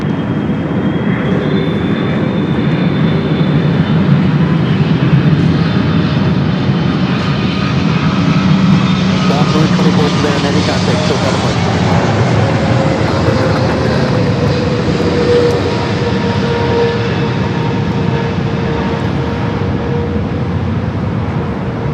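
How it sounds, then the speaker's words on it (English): A Boeing 777 airliner on short final approach at LAX roars loudly and continuously overhead, its engine whine slowly shifting in pitch as it passes close by, with no talking. "hold on to your biscuits as we go to the 777, short final."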